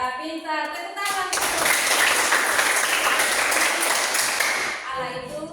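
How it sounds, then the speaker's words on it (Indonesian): A class of children bursts into loud, steady applause for about four seconds, the clapping dense and close, with bits of talk before and after. "Tepuk tangan."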